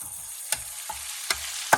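Tomato and smoked paprika sizzle steadily in a paella pan with a constant frying hiss, while a spoon stirs through four times, each pass a brief scrape rising over the sizzle.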